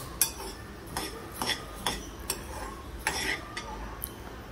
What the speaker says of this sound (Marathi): प्रथम धणे आपण सुके भाजून घेतो